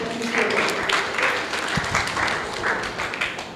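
An audience at a World Mental Health Day event applauds in a moderate, continuous round of clapping, with a few sharper claps standing out near the middle.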